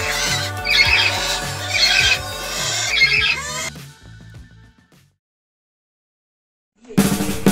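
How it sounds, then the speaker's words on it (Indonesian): A brooding lovebird squawks in loud, harsh repeated bursts, then falls silent for a few seconds before another sharp squawk breaks in. "Nah ini burung lovebird teman-teman, sekarang lagi mengeram."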